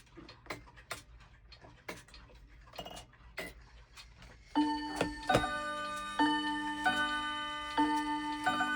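A Tempus Fugit weight-driven wall clock ticks steadily, then chimes in a run of bright ringing strikes that sustain and overlap, near and clear.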